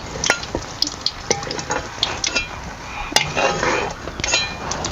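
Fried green chillies being lifted out of a pan onto a plate, with close metallic clinks and scrapes of utensils over a light sizzle of oil.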